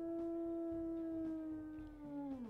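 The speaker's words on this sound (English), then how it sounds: "We'll listen to her howls." A wolf howl in the video game WolfQuest, a steady, sustained howl holding one tone, then sliding down at the end, with some soft background noise underneath.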